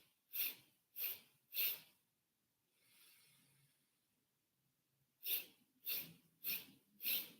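A deep inhale during a guided breathing exercise, one soft drawn-in breath between sharper, louder puffs of breath, close and intimate with nobody speaking.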